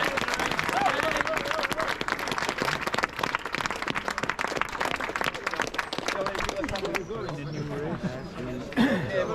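Outdoor clapping for Mike from a crowd of runners gathered at the start of a fell race, brisk scattered claps mixed with chatter, giving way to talking voices near the end.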